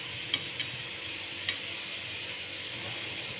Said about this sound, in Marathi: दोन ते तीन तीन मिनटं छान असे आपण मोदक तळून घेऊया